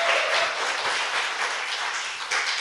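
A crowd at a Korean political talk show taping claps steadily in a dense, even burst of applause lasting a few seconds, close and fairly loud with no talk over it.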